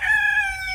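A cockerel crows once, close and loud, a short bright tonal call heard alone without other sounds.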